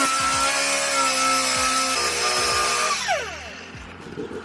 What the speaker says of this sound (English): I'm gonna use my sander here and get everything clean